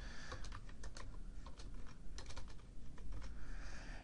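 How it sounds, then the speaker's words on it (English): Steady, rapid clicking of fingers typing on a computer keyboard, close and clear, running continuously with brief pauses between bursts of keystrokes and no talking. "I'm just typing in some pretend answers here to these."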